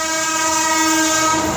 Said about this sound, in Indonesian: Suara kereta api kawan-kawan ya.